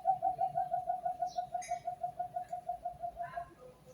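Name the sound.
cuckoo bird calling from a mango tree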